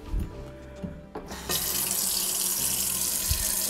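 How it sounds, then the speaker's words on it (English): Water rushes from a kitchen sink tap into a cooking pot for pasta. After a brief quieter start it surges into a loud, steady hiss that fills the rest of the clip, with no talking. "So we're gonna fill it up nice and full with lots of water."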